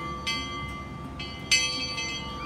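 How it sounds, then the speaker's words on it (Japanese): A bell at an ocean-view observation deck on a ship-shaped building, struck twice with bright metallic clangs that ring on and fade, heard at a moderate distance over a steady outdoor hum. "鐘の音が鳴ってますね。"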